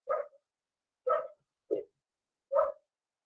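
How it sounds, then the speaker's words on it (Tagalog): Dog barking outside a room during an online lecture: five sharp, moderately loud barks spaced unevenly about half a second to a second apart, with no other sound between them. "Lara, can you close the window and the door para yung aso yung masyadong maingay?"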